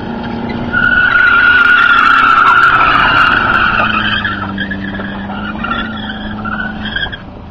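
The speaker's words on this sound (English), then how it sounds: "Drifting. That's right, drifting Nissan." Nissan Altima drifting, with a loud sustained tire screech that wavers in pitch over the engine's drone for several seconds and then fades slightly as the car moves off.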